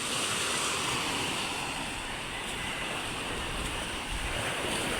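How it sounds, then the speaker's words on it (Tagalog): Steady rushing of sea waves along a shore with wind buffeting the microphone, continuous and close, no voices. "Medyo may alon-alon po. May alon-alon po."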